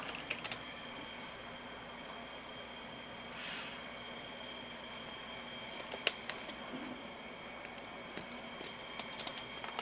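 Computer keyboard typing, scattered light clicks and small bursts of key taps, faint and sparse against a quiet room hum, with no talking.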